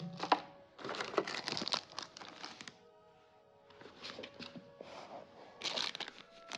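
Plastic bags holding board-game dice crinkle and rustle in short bursts as they are handled close up, with small clacks of the dice inside, quiet overall.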